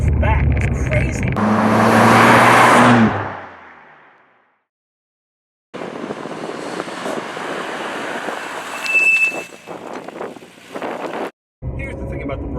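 A Nissan Skyline GT-R accelerates hard from 30 to 40 mph: a loud engine roar builds for a few seconds and cuts off, then a quieter stretch of road and cabin noise with some talking follows.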